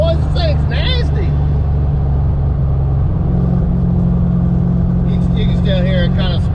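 Fox body with a 331 stroker engine, a loud, rough idle rumbling steadily throughout with uneven sputtering and brief cut-outs, voices heard faintly over it.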